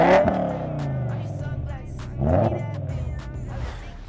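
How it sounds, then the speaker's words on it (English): A BMW M5 E60 with a newly fitted aftermarket exhaust revs hard twice, deep rumbling engine swells rising and falling close by, with wind noise in the background. "right now the car has a deep sound"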